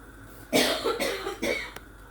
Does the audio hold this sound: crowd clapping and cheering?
no